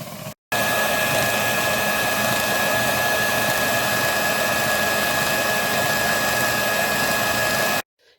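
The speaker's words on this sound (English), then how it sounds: "So now I'm just going to mix everything together, get it smooth blended" An electric mixer whirs continuously at high speed through pineapple cake batter, a steady loud motor drone with a sharp whine, close up, starting after a brief pause and stopping abruptly near the end.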